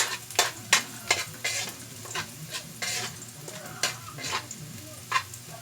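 Boiled bupis being sautéed quickly with garlic and onion in a pan, a close sizzle broken by repeated sharp spatula scrapes and clinks in an uneven stirring rhythm.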